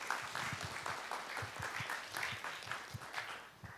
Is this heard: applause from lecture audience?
yes